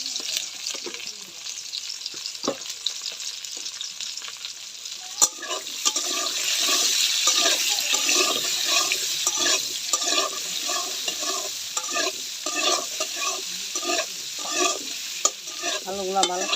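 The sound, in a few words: potatoes frying and being stirred in a pan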